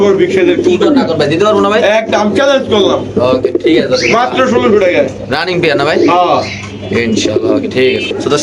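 Pigeons coo at a busy pigeon market where highflyer birds are sold. The soft cooing sits under loud, close talking that runs throughout.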